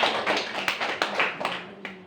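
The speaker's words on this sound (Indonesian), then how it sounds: "Tepuk tangan dulu untuk kalian." A small group of students clapping briefly in a classroom, a loose scatter of hand claps of uneven rhythm, close and moderately loud with no talking.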